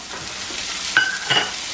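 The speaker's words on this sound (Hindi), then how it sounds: "हल्का सा प्याज 2 से 3 मिनट तक हम भूनेंगे।" Onion fries in a pan with carrot for a vermicelli dish, giving a soft, steady sizzle with light stirring scrapes and a faint clink, heard close with no talk.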